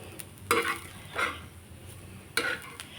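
Spice paste ingredients for mutton roasting in a pan until reddish, a quiet sizzle broken by three brief scraping stirs of the spoon, fairly faint and with nobody speaking.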